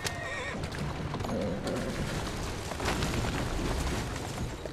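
A horse in Assassin's Creed Syndicate neighs and clip-clops amid dense, rumbling game noise, the whinny sitting near and brief while hooves and ambient clatter fill the rest without talk.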